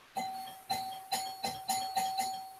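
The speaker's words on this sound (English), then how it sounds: "Oh, doorbell." A doorbell rings repeatedly, six or seven sharp chimes in a quick, uneven rhythm, each ringing out briefly, clear and fairly close with no talk over it.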